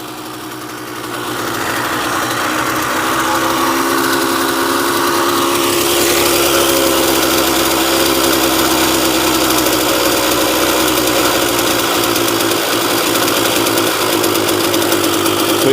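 A small engine fires up on fresh fuel after a quick turn over and settles into a loud, steady idle, rattling and throbbing continuously right up close with no one talking.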